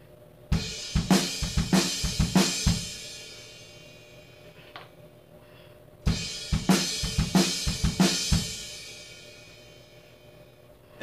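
A drum kit plays a groove with a short fill inside it, heard twice as clear, loud repeated hits with crashing cymbal wash and a brief gap between the two passes.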